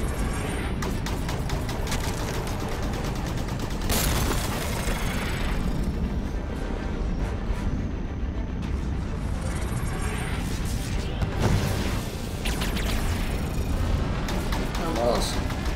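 Weapon fire and booming explosions from the Halo 5 Guardians campaign, a dense continuous barrage of shots and heavy blasts filling the whole stretch, with someone talking over the combat.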